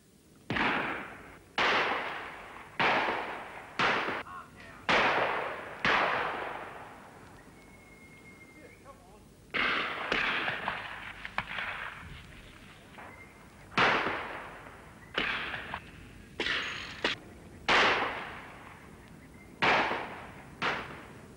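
A shooting party fires breech-loading shotguns at game: loud, sharp shots come singly and in quick pairs, a dozen or more in all, each followed by a rolling outdoor echo, with brief quiet gaps between volleys.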